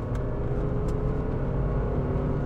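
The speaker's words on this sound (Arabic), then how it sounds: "صوت الموتور بيعلى على طول." Fiat 500c convertible engine revving up after a paddle-shift downshift, a steady, fairly loud drone heard from inside the car with no talking.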